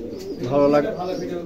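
A pigeon gives a short, soft coo nearby, brief and low, with a person talking at the same time.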